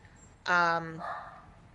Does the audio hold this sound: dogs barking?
yes